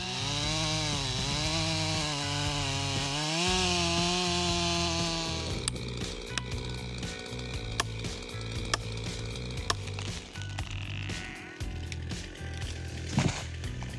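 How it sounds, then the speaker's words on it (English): A chainsaw roars while cutting down trees in a small forest, its engine revving loudly and steadily, then giving way to sharp crackles and snapping of wood. "Thanks to the power of his chainsaw, he single-handedly completed the task of cutting down all the trees in this small forest"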